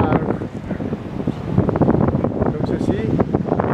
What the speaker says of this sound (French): Donc le vent vient d'ici.